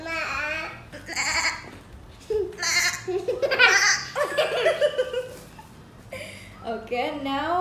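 Voices take turns making wavering, bleat-like imitations of a sheep, mixed with giggling and brief speech, close and lively.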